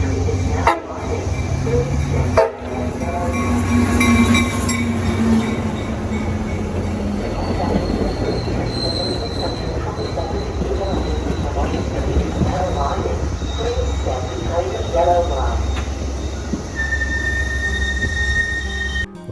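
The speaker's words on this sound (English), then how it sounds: "Rock Island Beverly train number 627 to Blue Island and Vermont Street is now arriving" A Metra Rock Island Beverly Branch commuter train, number 627 to Blue Island and Vermont Street, pulls into a station with loud squealing wheels and rumbling cars, while a station announcement plays over it.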